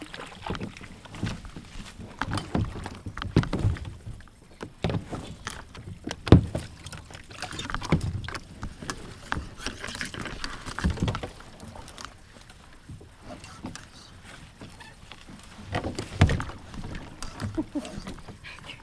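A kayak moves through a small Michigan river, with irregular close splashes, paddle knocks and rustling brush, plus intermittent water swishes and faint background noise.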